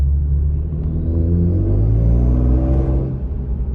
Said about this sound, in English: And I have a custom exhaust, so it's gonna be a little bit louder than usual.